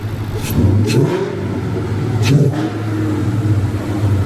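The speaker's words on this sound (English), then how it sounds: "Rev it a couple times." A car engine fitted with a ported 1320 intake revs several times, each throaty rise and fall standing out over a steady idle rumble, loud and close.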